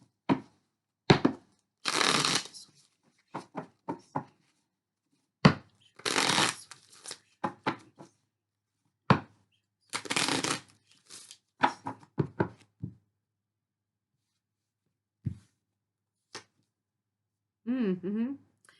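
A deck of tarot cards is shuffled in several separate bursts of quick riffling and snapping, close and crisp, with quiet gaps between them and a brief voice near the end.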